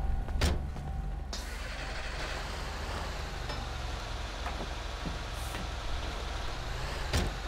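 A tow truck drives in a video game with a steady, low engine drone, some faint mechanical whine and a few sharp clicks or knocks scattered throughout, and no voices.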